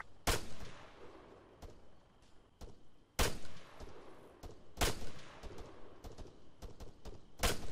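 Rifle gunshots in ARMA 3, fired at night through a scope: several sharp, loud cracks spaced a second or two apart, each followed by a short echoing tail, with faint scattered pops between.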